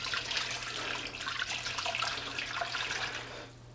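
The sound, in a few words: water poured into smoker pan with pork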